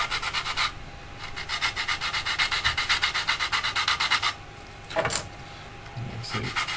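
A sanding stick rubs back and forth across a plastic part from a 1/48 Italeri Chinook model kit in quick, rhythmic scratchy strokes, close and fairly loud, followed by a few lighter rubs.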